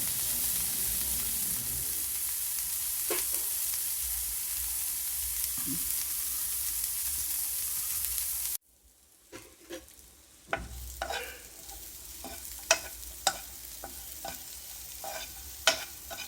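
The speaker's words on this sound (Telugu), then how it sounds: "సాల్ట్ వేసాం కదా, బటర్ సాల్ట్ మెల్లగా వేగనిద్దాం కాసేపు." Corn kernels fry in butter and salt in a pan, a steady sizzling hiss at first, then a spatula stirring with scattered clicks and scrapes against the pan.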